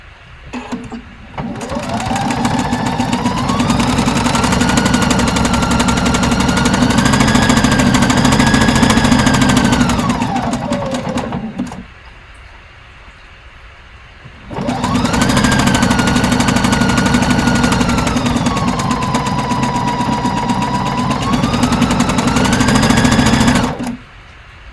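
A sewing machine stitches the shoulder seam of an Orla dress in two long runs, each a loud, steady mechanical whir with rising and falling motor pitch, separated by a short quiet pause.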